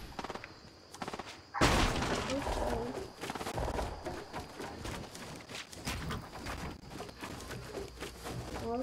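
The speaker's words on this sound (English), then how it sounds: "So I'm being shot at from west." Video game gunfire erupts in a dense, loud barrage of shots and impacts. It keeps going with voices talking over it.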